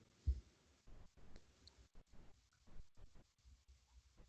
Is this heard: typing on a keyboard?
yes